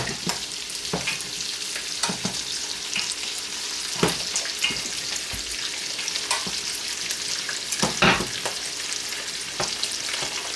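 Food frying in hot oil in a home kitchen pan, a continuous crackling sizzle with sharp pops and spatters breaking through every second or two, close and fairly loud with no voices.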